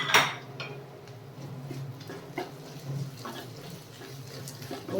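Garlic and ginger are stirred in ghee in a pan, with quiet clinks and scrapes of a spoon against the metal over a soft background hiss.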